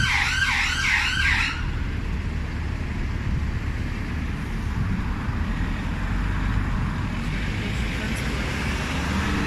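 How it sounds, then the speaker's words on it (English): An ambulance siren wails on a busy road in Edinburgh, its warbling tone loud at first and then cut off, leaving steady traffic rumble. "There's an ambulance behind."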